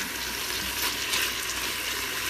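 Sausage sizzles in an Instant Pot on saute mode, a soft steady crackling hiss of fat frying, close and continuous with a small clack at the very end.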